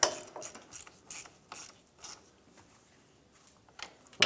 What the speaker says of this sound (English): and then we'll grab the torque wrench and torque it